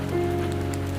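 Rain falling during a thunderstorm, a dense, even hiss of drops at a constant level, with a steady low tonal hum beneath it and no voices.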